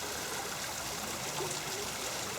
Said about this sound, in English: Tiny waterfall number 1. This is always a pretty quiet one.